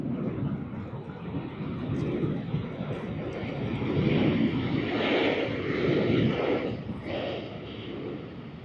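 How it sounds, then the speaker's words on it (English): A United Airlines Boeing 787-9 Dreamliner turns onto runway 34L at Sydney Airport, its jet engines a loud, steady roar that swells slightly midway and then eases off, with no voices over it. "the shiny United Airlines Boeing 787-9 Dreamliner as it turns on to runway 34L"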